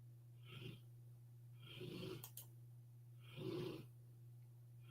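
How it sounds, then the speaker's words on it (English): A man snoring, three slow rasping breaths spaced about a second and a half apart, faint and close over a steady low hum. "Do you hear him snoring?"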